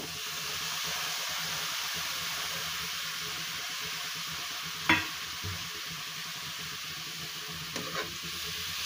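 Crumbled paneer fries in a pan for bhurji, giving a soft, even sizzle while a spoon stirs it, with two distinct scraping knocks against the pan along the way.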